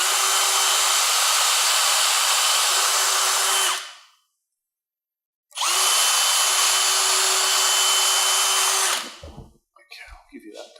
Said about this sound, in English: so we'll just pre-drill that.